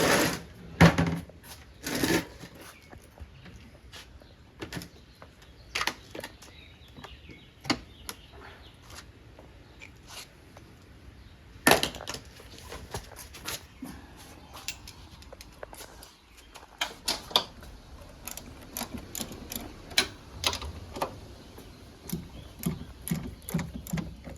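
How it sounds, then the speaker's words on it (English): A 13 mm strut bolt is loosened on the front suspension of a 2014 Dodge Durango AWD, giving sharp intermittent ratchet clicks and metallic clanks in irregular bursts, close up with no talk. "Now I'm going to take and loosen up this strut here. And that's a 13 millimeter."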